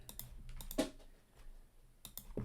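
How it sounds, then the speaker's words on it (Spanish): A cat walks across a computer keyboard, setting off scattered key clicks in short irregular clusters, near and fairly quiet, with one louder clack partway through. "pasó mi gata por el teclado y me desactivó el comando"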